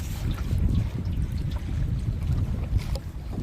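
Strong storm wind buffets a small boat on a Sundarbans river, a continuous low rumbling roar close to the microphone.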